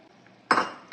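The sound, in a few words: adding fried cashews and raisins to ghee rice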